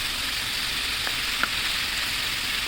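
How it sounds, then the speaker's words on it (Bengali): Flour-dredged chicken pieces, marinated for hours, frying in oil with a steady bright hiss and a couple of faint pops, close and continuous throughout. "চিকেনগুলো আমি ভাজতেছি এখন"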